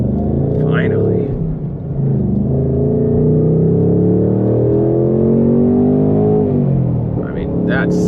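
Stock Ford Mustang engine with its factory active exhaust, heard from inside the car, holding a loud, steady rumbling rev with rising and falling pitch for several seconds, and brief bits of voice near the start and end.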